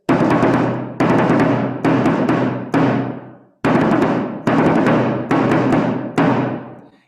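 Civil War drum beating the 'commence firing' call, eight sharp, loud, ringing strokes in an urgent pattern, each decaying before the next, with a brief pause midway and no voices.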